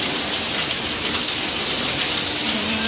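Steady rain pours down outside a house, a dense, even hiss of drops on surfaces that holds constant throughout with no voices.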